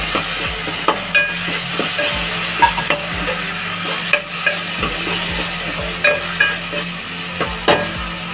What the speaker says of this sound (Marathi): आता जो आपण जी पेस्ट केलेली आहे ती घालून घेऊया आणि ती चांगली फ्राय करून घ्यायची आहे